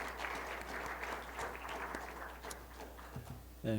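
Steady applause from a church congregation during a Sunday service fills the room, even and continuous, before a voice briefly cuts in at the very end.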